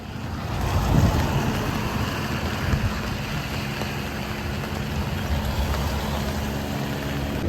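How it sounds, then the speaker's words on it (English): Rain runoff water running down an asphalt sidewalk outdoors, a steady broadband wash of flowing water with a low rumbling undertone, continuous and fairly loud throughout. "So what you have here is the water running down like"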